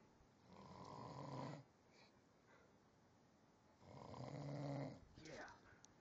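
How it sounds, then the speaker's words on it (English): A person snores slowly and deeply in two long, rasping breaths separated by a quiet pause, with a short softer snort after the second. The sound is faint and close, with no talk. "Snore solo."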